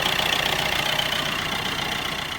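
A 2012 Opel Astra 1.3 diesel engine idles steadily up close, a continuous low rumble with a light rhythmic clatter and no voices.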